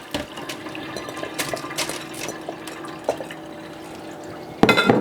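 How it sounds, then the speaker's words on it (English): Soaked sunflower seeds and water poured into a strainer in a kitchen, scattered splashes, drips and light clinks rising to a louder pour near the end, close and without talking. "Then, after 8 to 12 hours, you pour it back into your strainer here."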